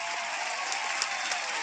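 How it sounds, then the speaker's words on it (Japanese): Studio audience applauding a guest violinist, Karina Mitchell, in an animated show, a bright, even wash of clapping held steadily and a little distant, with no voices over it. "ほらティム、もっと拍手だ"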